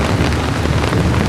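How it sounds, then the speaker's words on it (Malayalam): Heavy, continuous rain that has been pouring for hours in Potong Pasir, Singapore, makes a loud, dense, steady hiss with no voices. "നല്ലൊരു മഴയത്ത് ഇപ്പോൾ ഒരു 2-3 മണിക്കൂറായി നല്ല തുടർച്ചയായിട്ട് നല്ല അടിപ്പം മഴ പെയ്യാൻ തുടങ്ങിയിട്ട്."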